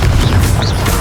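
A Confringo fire blast spell from Hogwarts Legacy erupts as a loud, sustained low booming rumble with a brief rising whoosh over the top, lasting about a second without pause.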